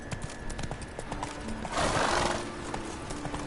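Horse hooves clip-clopping at a trot in The Witcher 3: Wild Hunt, a quick steady rhythm of close hoofbeats with a brief whinny and a burst of rustling midway.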